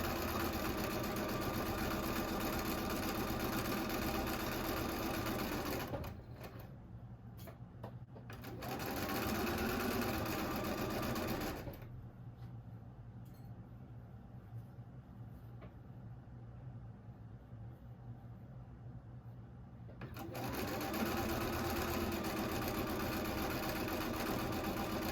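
Domestic sewing machine stitching a row of a quilt block, running in steady continuous bursts with two pauses of near quiet between runs, loud and close with no talking.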